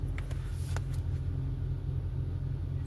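A parked car's B8 engine idles steadily, a low, even rumble with a faint whine above it, close and constant throughout, with no talk.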